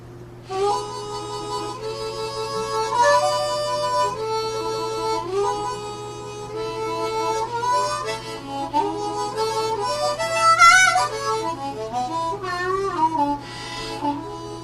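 Harmonica notes alternating between blown and drawn tones, each held about a second, moving between pitches in a steady exercise pattern, played alone over a faint hum.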